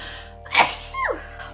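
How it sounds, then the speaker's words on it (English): A single sharp sneeze, a quick intake followed by a burst, close and clear against quiet background. "I have to sneeze."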